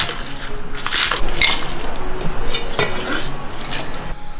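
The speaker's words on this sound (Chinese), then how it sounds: "接着来切一把葱段。" A kitchen knife chops scallions into segments on a cutting board, with several crisp, close strikes spaced irregularly alongside light clinks.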